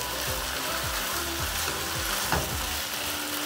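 Carrot stir-fried in a hot pan for egg noodles, with a loud steady sizzle under regular scraping strokes of a spatula stirring, close up.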